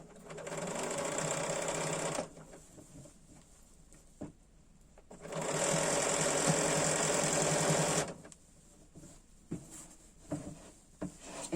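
A Bernina 780 sewing machine stitches fabric in two sustained bursts of steady, rapid needle clatter, about three seconds each, separated by quieter gaps with light handling knocks and clicks.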